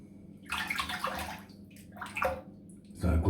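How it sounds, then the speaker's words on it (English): A razor is rinsed under running water in a bathroom sink, heard as intermittent close splashing and gushing bursts with short pauses between them, ending in a louder slosh. "So a good rinse."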